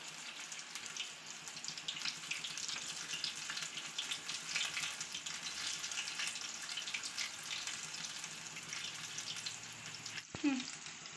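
Okra fritters (bajji) frying in hot oil give a steady, close, dense sizzle and crackle that runs unbroken for several seconds, ending with a brief clatter.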